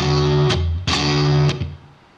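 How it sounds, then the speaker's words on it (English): An electric guitar played through an HX Stomp with reverb sounds two sustained distorted chords, each ending in a sharp strum. The last chord fades into a reverb tail, close and loud. "Let's add some reverb, just for a little bit of more flair."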